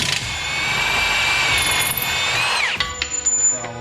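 A power tool whines loudly and steadily as it drives a 17mm socket on a Mazda CX-5 during a lift kit install, winding down near the end into a few short ratcheting bursts.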